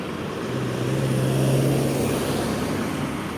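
Cars in slow traffic at a street crossing near a market, a steady broadband road rumble with a low engine hum swelling in the middle, no talking.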